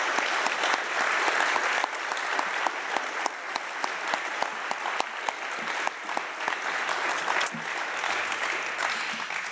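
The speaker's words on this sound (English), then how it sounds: "So give them a round of applause." An audience at a Chamber of Commerce candidate forum gives the candidates a round of applause, a steady wash of many hands clapping with scattered sharper claps, sustained to the end.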